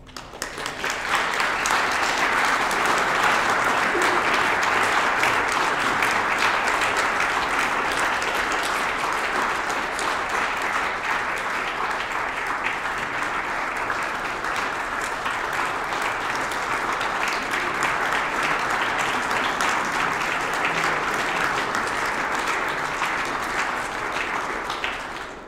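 Steady, dense applause from a concert audience fills the hall after a piano recital at the Kurhaus in Bad Homburg, continuing evenly throughout with no break.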